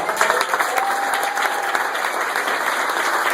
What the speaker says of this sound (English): So we're going to applause for Elizabeth Toledo as well